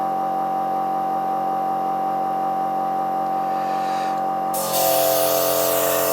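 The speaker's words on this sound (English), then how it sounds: "I like to spray just a little bit of the liquid onto my paper." A steady mechanical hum runs throughout from a Copic airbrush, then a sharp, loud hiss of liquid spraying onto paper cuts in near the end and continues.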